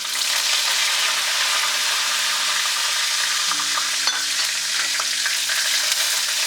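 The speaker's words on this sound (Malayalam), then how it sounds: "ശകലം കറിവേപ്പില ഇട്ട് കൊടുക്കാം" Curry leaves hiss and sizzle loudly in hot oil with popped mustard seeds for mango pickle, a steady close frying roar with faint stirring scrapes and no talking.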